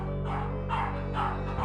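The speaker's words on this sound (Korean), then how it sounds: "집에 오는 외부인을 경계하고 짖어댔던 콩이의 행동." A pet dog barks warily at a visitor coming into the home, giving three evenly spaced barks over a steady low background hum.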